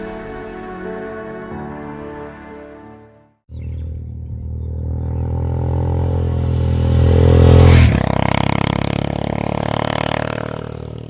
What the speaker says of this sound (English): the Royal Enfield Scram 411, a scrambler